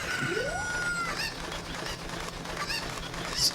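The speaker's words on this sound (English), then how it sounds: "And the way the chickens run, I'm trying to do it in a way where they're running towards the pen." Cartoonish chickens (cuccos) squawk in Zelda: Ocarina of Time, a rising squawk at the start followed by scattered shrill clucks and a sharp squawk near the end over steady game background sound.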